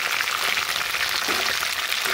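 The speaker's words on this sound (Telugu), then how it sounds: "ఆయిల్లో ఫ్రై అయిన తర్వాత ఇప్పుడు మనం ఆనియన్స్ కూడా వేసేసుకుందాం" Onions sizzle as they fry in hot oil for a spicy chilli chicken dish. A steady, moderate hiss runs throughout, close and alone, with no voices.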